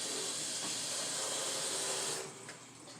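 Kitchen tap water running steadily while hands are rinsed during lasagna making, a broad hissing rush that holds for about two seconds, then stops, leaving a quiet room with a faint clunk.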